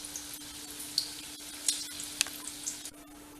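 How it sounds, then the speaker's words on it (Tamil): Potatoes for potato Manchurian frying in hot oil, a soft continuous sizzle with occasional sharp crackles and pops, close and fairly quiet. "இப்போ உருளைக்கிழங்கு எல்லாத்தையும் வறுத்தாச்சு"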